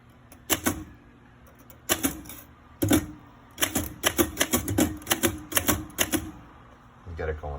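Keys clack on a Remington Rand Deluxe Model 5 typewriter in irregular bursts of sharp strikes with short pauses between groups, close and crisp, ending in a softer mechanical movement.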